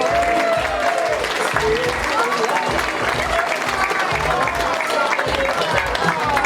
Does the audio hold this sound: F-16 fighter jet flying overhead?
no